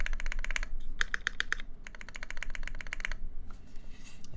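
Mechanical key presses on a Canoe keyboard fitted with Zeal Zephyr switches, quick clattering bursts of typing with brief pauses, close and alone with no talk.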